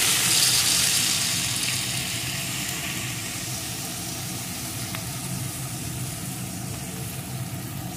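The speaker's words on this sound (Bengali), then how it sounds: "এখন এর ভিতরে আমি দিয়ে দেব একটু জল। আমার এখানে বড় সাইজের 4টে बीट ছিল। আমি এখানে 1 কাপ পরিমাণ জল দিয়ে দিচ্ছি।" Water poured into a pan of frying beetroot, four large beets with one cup of water, gives a loud broad sizzle that bursts up at first and then settles into a steady hiss.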